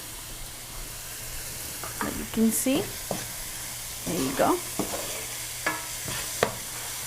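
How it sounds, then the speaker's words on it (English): Sofrito sizzles steadily in a pan, with a soft hiss under occasional stirring scrapes and a few brief spoken words. "let it fry as much as it can"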